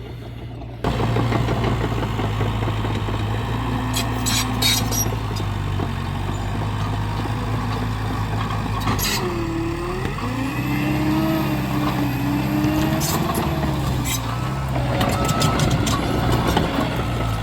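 A John Deere 650 bulldozer digging a pond runs with a loud, close diesel rumble that holds steady, then rises and falls through a few revs midway, with faint metallic clanks now and then.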